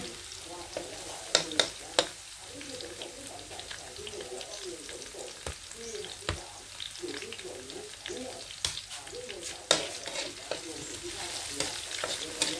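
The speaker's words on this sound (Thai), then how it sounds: "จียวกระเทียมแล้วก็รากผักชีนะคะ" Garlic and coriander roots fry in a pan for Thai nam ngiao, a steady sizzle with frequent stirring clinks and scrapes, close and continuous throughout.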